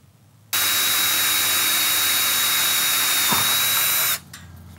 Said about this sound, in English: four punch marks that need to be pre-drilled before you can fasten